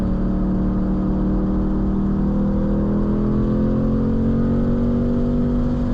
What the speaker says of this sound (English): I'll try to let you hear the motor